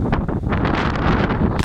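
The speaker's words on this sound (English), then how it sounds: "it's windier than I expected" Strong outdoor wind buffeting the microphone in loud gusty rumbles over a brief moment, with no clear voice.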